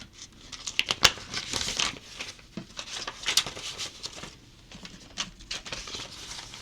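Paper cash bills are shuffled, counted and tucked into a budget envelope, giving close, quiet crinkling and papery rustles with light taps and flicks.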